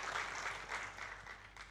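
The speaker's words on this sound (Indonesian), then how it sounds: "yang percaya boleh kasih tepuk tangan yang paling luar biasa bagi Yesus Tuhan kita" A church congregation applauding during a service, a dense wash of many hands clapping at once, steady and fairly faint at a distance, with no speech over it.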